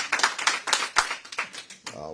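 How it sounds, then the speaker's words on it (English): Scattered clapping from the audience at a Senate hearing, a handful of sharp, irregular claps close by, fairly quiet with gaps between them. "I'll wait till the clapping's done"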